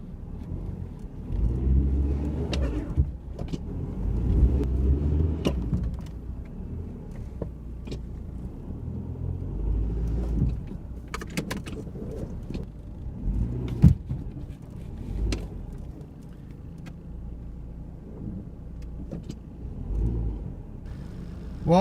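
A Nissan Pulsar's engine rumbles steadily at low speed while it is used to move another car, with a deep idling drone, occasional clunks and creaks, and no talking.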